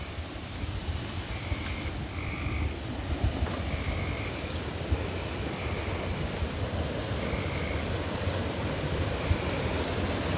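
A small creek in Kentucky, swollen by flooding, rushes past in a loud, steady broadband roar that never lets up, with no voices.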